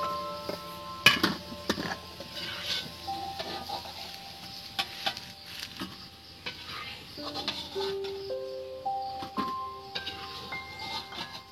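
Fried potatoes, cooked until lightly reddened, are lifted out of hot oil with a metal utensil, giving scattered clinks and scrapes over a soft, steady sizzle.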